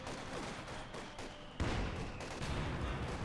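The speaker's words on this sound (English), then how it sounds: "Heavy artillery fire there on the centre." Heavy artillery fire rumbles in Company of Heroes 2, with dense, continuous booms and crackling explosions that grow louder partway through, and no talk over it.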